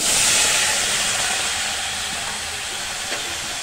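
Tamarind and chopped tomatoes hit a hot pan for a Telugu-style tomato pachadi, setting off a loud, steady sizzling hiss that eases off slightly as it settles.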